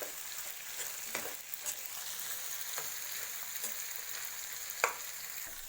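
Onions and boiled potatoes sauté in a pan for kanda batata poha, giving a steady close sizzle and fry hiss with occasional soft stirring scrapes, no talking.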